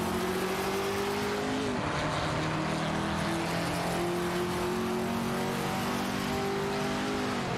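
Race car engines in a video game, a Ferrari 330 and a Porsche 908 Spider, droning steadily with sustained engine tones that shift pitch midway, loud and continuous with no talk.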